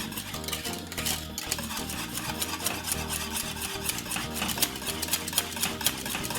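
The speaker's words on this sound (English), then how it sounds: "stir it until it gets cooked for roughly about 10 minutes" A spoon stirring thick Jamaican cornmeal porridge in a pot, a steady close scraping and rubbing with a soft bubbling sizzle underneath, continuous and fairly loud.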